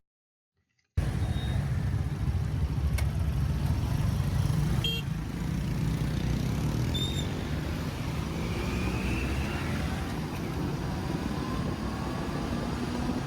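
Car driving through busy city traffic in Cotonou on a Monday morning, a steady low road rumble and engine drone from inside the vehicle, with faint passing sounds and brief higher tones, after a silent start.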